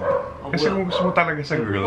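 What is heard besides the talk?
dog barking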